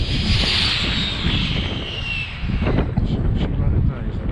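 A model airplane engine buzzes past in a quick flyby, a high whine sweeping downward as it passes and fades, with wind rumble and a voice underneath.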